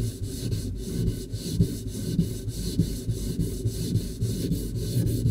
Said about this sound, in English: the hard chine on the stern had to be sanded by hand